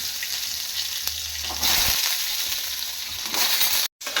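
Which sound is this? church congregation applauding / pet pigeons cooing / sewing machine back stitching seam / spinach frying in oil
spinach frying in oil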